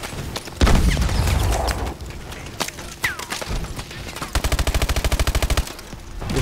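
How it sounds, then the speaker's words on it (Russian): Explosions and gunfire in Call of Duty: Advanced Warfare: a heavy boom early on, scattered shots and impacts, then a rapid burst of automatic fire, loud and close. "Сейчас мы, значит, взрываем его греной."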